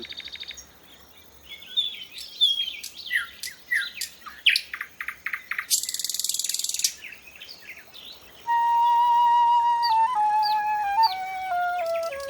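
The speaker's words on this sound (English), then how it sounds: "It's one of the few daytime birds that will also sing in the middle of the night" A daytime songbird known to sing at night delivers a varied series of sharp chirps and trills, then clear whistled notes stepping downward, close and distinct over a quiet background.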